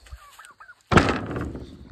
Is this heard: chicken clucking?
yes